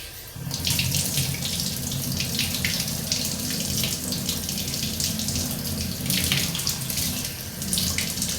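A tap runs steadily into a container to water a small potted flower, a close, continuous splashing gush lasting several seconds with no talking.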